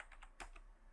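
Keys on a computer keyboard are typed in a quick, faint run of clicks, with one sharper press of the Enter key near the middle, close by and quiet.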